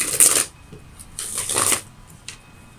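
Tarot cards are shuffled by hand, two quick riffling bursts and a brief final flick, close and crisp in a quiet room with no speech.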